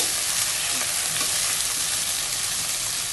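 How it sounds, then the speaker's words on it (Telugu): Two medium tomatoes frying in a pan for gongura pachadi give a dense, continuous sizzling hiss, loud and steady from start to finish, with faint stirring taps and no speech. "టొమాటో యాడ్ చేసిన తర్వాత కొంచెం టొమాటో ఫ్రై చేసుకోవాలండి"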